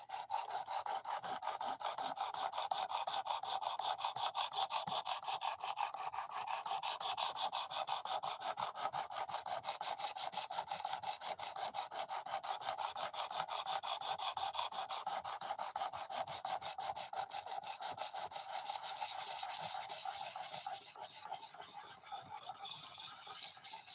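A knife's bevels are ground evenly on a steel blade, a continuous, rapid rasping scrape that holds steady for a long stretch before easing slightly near the end.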